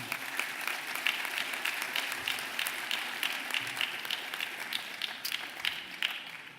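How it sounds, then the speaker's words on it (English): Audience at an anniversary dinner gives a round of applause, dense continuous clapping from many hands at moderate volume, steady throughout without talk. "I would like to give all of you a round of applause for your help."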